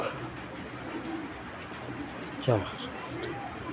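Soft, low pigeon coos murmur close by beneath a person talking, with one brief louder call partway through.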